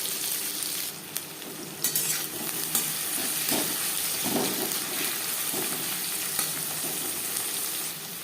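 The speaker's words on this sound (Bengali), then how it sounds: "চার পাঁচ চামচ রিফাইন্ড অয়েল গরম করে নিয়েছি দিয়ে দিলাম পেঁয়াজ কুচি চার পাঁচটা চেরা কাঁচা লঙ্কা" Chopped onion and slit green chillies fry in hot refined oil with a steady close sizzle and occasional stirring scrapes and clinks, no one speaking.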